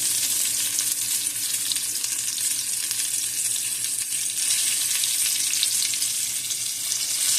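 White catfish frying in a pan on the Eastern Shore, a loud, continuous close-up sizzle of bubbling oil with no voices.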